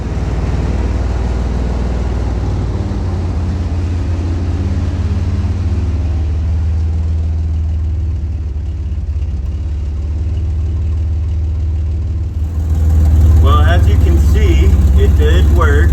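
A vehicle with a JB Welded rear end, running in gear with its wheels up off the ground: steady close engine drone and drivetrain whir, growing louder near the end with a rising whine.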